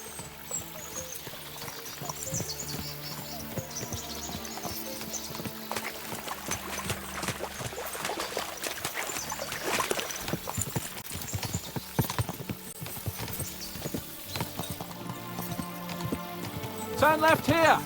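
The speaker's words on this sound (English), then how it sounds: "As soon as we cross the stream, we'll give the horses a gallop again." Horses galloping in a medieval open-world game, hooves clip-clopping in a steady rapid rhythm under a dense layer of music and ambience, growing a little louder toward the end.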